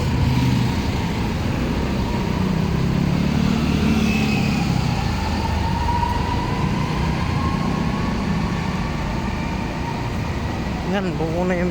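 An MRT3 train passing Kamuning station in the GMA area: a steady, loud urban drone of traffic and rail with a rising motor whine, heard continuously from nearby.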